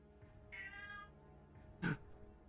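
A cat meows once in a drawn-out, wavering tone, fairly quiet, followed by a short sharp noise nearby.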